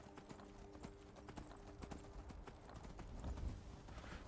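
A horse's hooves clip-clop steadily in the video game Skyrim, a quiet, even rhythm of hoofbeats that continues throughout with no speech.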